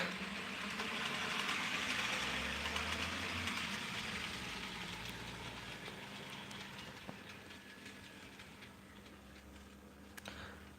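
An N gauge model freight train rolling into a siding on a layout, a faint steady motor hum and soft wheel rumble with occasional tiny clicks, no talk.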